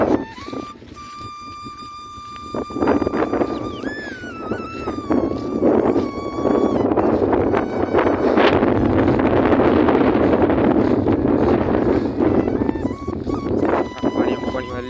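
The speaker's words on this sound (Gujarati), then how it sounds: "પવન બહુ આવે છે" Strong wind buffets the microphone with heavy rumbling gusts, while a person speaks and tonal whining sounds rise and fall over it.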